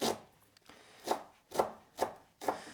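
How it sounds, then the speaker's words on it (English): A knife chops fresh cilantro finely on a cutting board, with five distinct, evenly spaced thuds that sound close and clear and have no talking over them. "So I'll do a rough chop and then just keep running my knife through until it's nice and fine."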